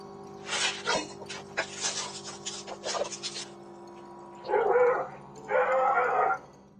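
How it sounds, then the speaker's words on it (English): A homeowner's dog chasing a food delivery man barks in several bursts, then gives two louder, longer barking runs near the end over a steady background hum. "the homeowner's dog wasn't having it and chased him"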